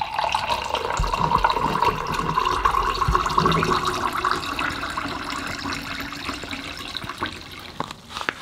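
Water filtering through a Katadyn BeFree squeeze filter into a cup, a steady close trickle and splash of liquid that runs continuously and eases slightly toward the end.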